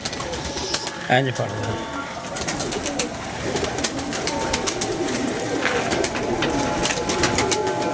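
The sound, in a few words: pigeon cooing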